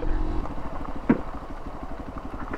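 A motorized tricycle with its motorcycle engine up front runs nearby in San Luis, Aurora, a steady mid-pitched putter with a rhythmic clatter and one sharp knock.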